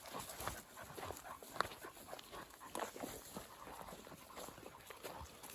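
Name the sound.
dog panting and whimpering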